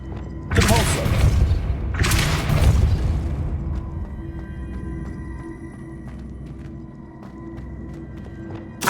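The Depulso spell is cast twice in Hogwarts Legacy, each a loud booming whoosh lasting about a second, close together, followed by a quieter game ambience.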